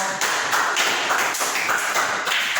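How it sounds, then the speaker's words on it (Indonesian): Applause for a dance group after a classroom performance of traditional dance: steady, dense clapping from a small group, fairly close and continuous throughout. "Ya, tepuk tangan untuk kelompok."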